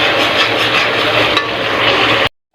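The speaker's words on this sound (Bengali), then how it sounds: "দিয়ে মশলা কষাইতেছি" Spices stir-frying in a pan sizzle loudly and continuously up close, with scraping stirs throughout, then cut off abruptly into silence, no talk.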